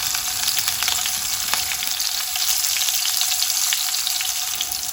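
Curry leaves, green chilies and hing crackle and sizzle steadily in hot oil for a tempering, a continuous close frying hiss with scattered pops and no voices.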